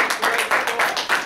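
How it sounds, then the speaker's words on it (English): A small group claps in an even rhythm for a brief moment after a score is announced in a classroom-style session, with crisp, closely spaced hand claps at moderate volume. "Let's give her a round of applause."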